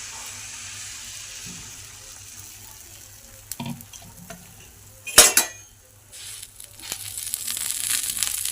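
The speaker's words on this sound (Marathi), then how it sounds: "त्याच्यावर असे तुपाचे धार सोडायचे आणि असं करून ते बेटर ओतायचं" Ghee drizzled and batter poured onto a hot pan for a healthy breakfast, a soft sizzle and liquid pour with a sharp burst of crackling midway, then a steady hiss building toward the end, no talk.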